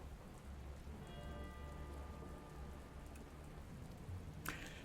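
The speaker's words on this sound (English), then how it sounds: "Sure does rain a lot for a, infected wasteland." Steady rainfall patters on surfaces in the game Dustland Delivery, a soft continuous wash with a faint tonal hum underneath and a short sharp burst near the end.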